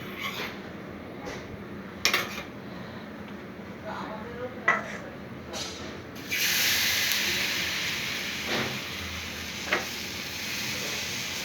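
Egg batter fries in a pan with a soft sizzle, and a spatula taps and scrapes now and then. Halfway through, a louder, steady hiss rises as oil is added and the batter is pressed flat. A voice speaks quietly underneath.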